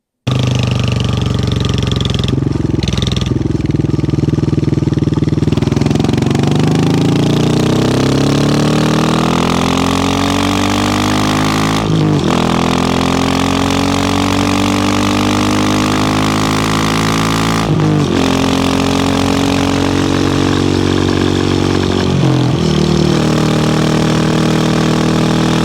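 A motorcycle fitted with a Kent cam and big bore kit accelerates hard, its loud engine note climbing repeatedly through the revs, with brief drops at gear changes, steady and close throughout.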